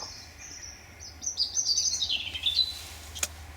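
Small birds chirp and twitter in quick, high bursts near a garden feeder, moderately close over a low outdoor hum, with a sharp click near the end.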